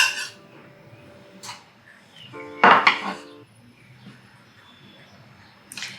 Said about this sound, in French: Je vais foutre ça dans une assiette.